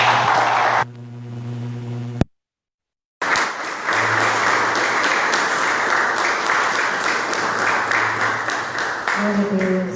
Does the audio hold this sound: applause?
yes